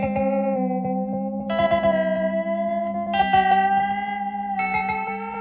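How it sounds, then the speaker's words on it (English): Mastro Valvola LEM multi-head tape delay set to its wow mode, adding warbling tape flutter to sustained instrument notes that shift pitch in four sections, with a steady wash of repeats and no talking. "This is a multi-head tape delay with the wow feature, which is that tape flutter sound"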